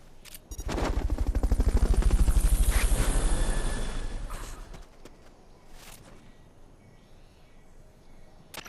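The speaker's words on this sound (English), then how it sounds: "Fulton recovery helicopter is complete." A Fulton recovery helicopter in Metal Gear Solid: Peace Walker swells in with a loud, rapid rotor chop that peaks, then fades out within a few seconds, followed by quieter game ambience and scattered clicks.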